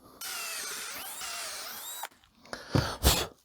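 A power drill bores through a wooden joist while building simple steps for a treehouse, giving a steady high whine for about two seconds that stops abruptly, followed by a few loud knocks and rustles of handling the wood.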